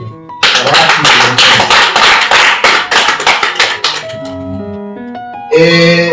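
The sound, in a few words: applause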